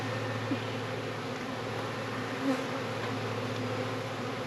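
A honeybee swarm hums loudly and steadily around a hive box, with bees fanning; the dense buzzing drone fills the whole stretch close by, with no talk over it.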